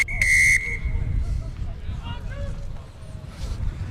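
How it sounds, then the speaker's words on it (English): A referee blows a short, sharp whistle at an outdoor rugby club match, heard over crowd noise and wind with voices in the background, followed by faint distant whistles and calls. "Wait for the whistle."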